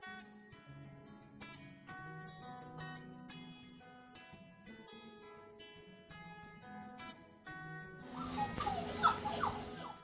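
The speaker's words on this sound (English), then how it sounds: "those puppies are still making a bit of noise" Puppies being unloaded from air cargo whimper and yip in repeated short, high whines, close and moderately loud, growing more insistent and overlapping toward the end.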